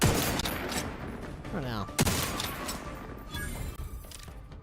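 Sniper rifle fire in the sci-fi shooter game The Outer Worlds 2, with a couple of sharp shots cutting through ongoing gunfire and game sounds, while a voice briefly speaks.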